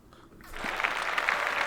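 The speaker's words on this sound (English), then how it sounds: "The applause is for me, not for you." An applause sound effect swells in after a near-silent start and holds as a dense, even crowd clapping for the rest of the moment.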